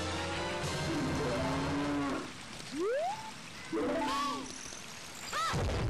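Cattle mooing in the video game The Legend of Zelda: Ocarina of Time gives several long, low, drawn-out moos with rising and falling pitch. They are moderately loud over steady background noise, with no talk.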